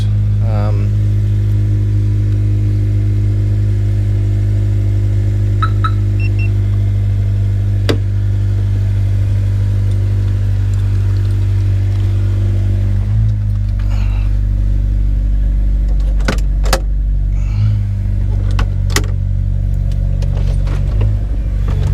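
A deep, throaty Honda S2000 engine with 62,897 miles rumbles continuously at close range, idling loud and bassy with a few clicks and small shifts in tone.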